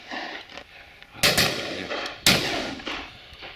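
Two sharp, loud shotgun blasts at pheasant or partridge on a shoot, about a second apart, each with a short echoing tail over quiet outdoor background.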